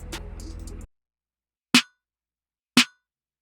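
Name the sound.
snare drum sample from Kavi's Elements of R&B kit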